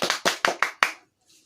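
Schoolchildren in a classroom clap in unison, about six crisp, evenly spaced claps close by, followed by silence.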